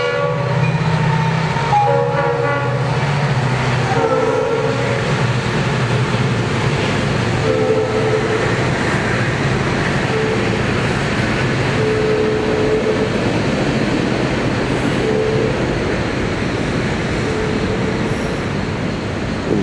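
A train rumbles past at night close by with continuous heavy rolling noise and clattering wheels, and its horn sounds several times over the steady roar.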